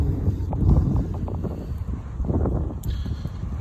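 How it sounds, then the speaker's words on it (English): Strong wind buffets the microphone along a flooded trail beside a small bridge, a loud continuous rumbling roar with gusty swells throughout. "It's very windy."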